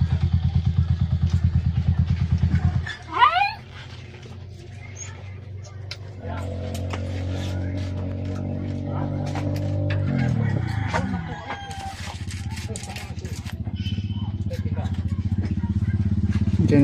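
A Skylab motorcycle taxi's engine runs at a steady, throbbing idle, then revs and rumbles on nearby while people talk and a rooster crows briefly.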